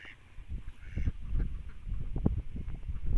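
A large flock of about 800 white ducks in a rice paddy field quacks and honks in dense, overlapping bursts that grow steadily louder, close by and without talk.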